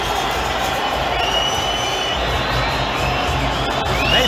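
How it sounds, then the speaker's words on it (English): A large football stadium crowd at a hostile USA vs Mexico match roars with booing, and piercing whistles cut through the constant dense wall of noise. "They booing and whistling like he just ain't catching an elbow to the side of the head."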